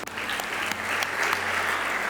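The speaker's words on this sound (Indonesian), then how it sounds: "Kita tepuk tangan dulu buat Tuhan" A church congregation claps together for God during a service, a steady wash of crowd applause filling the room at even loudness from start to finish.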